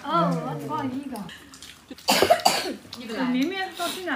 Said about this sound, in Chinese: 到现在还咳嗽啊！